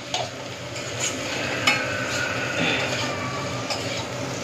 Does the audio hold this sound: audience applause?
no